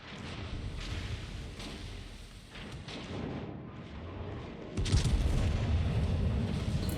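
Battleship shells firing and exploding in World of Warships: deep rumbling booms roll continuously, with a heavier, louder blast arriving near the end and sustaining a low roar.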